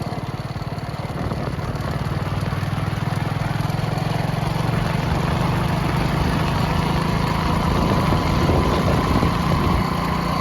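A motorcycle engine runs steadily throughout, a constant low rumble with a droning hum, close by and fairly loud.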